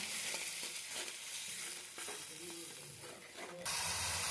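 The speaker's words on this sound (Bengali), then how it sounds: "এবার সবকটাকে বেশ নাড়াচাড়া করে নেব।" Salt, turmeric, chili powder and roasted spice powder fry in a pan for egg curry, giving a soft, continuous sizzle and hiss with intermittent stirring scrapes, faint and steady with no talking.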